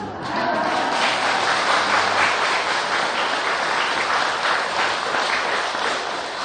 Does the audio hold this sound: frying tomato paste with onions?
no